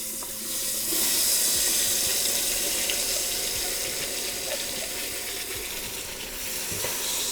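Vegetables dumped into hot butter in an Instant Pot for gumbo sizzle loudly and steadily up close, a continuous hissing fry with faint stirring clinks and no voices.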